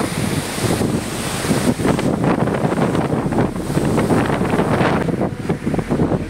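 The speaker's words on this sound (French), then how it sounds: "Obligé de pousser le vélo des fois, tellement le vent est fort." Loud, buffeting wind roars constantly against the microphone while cycling in exposed terrain in Italy, a thick rumbling gust that never lets up.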